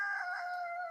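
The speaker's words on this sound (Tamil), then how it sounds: "இந்த கோழிக்கு எப்போ கூறுன்னு தெரியாது" A rooster crows in a single sustained, fairly loud call heard close by, heard alone without any talking over it.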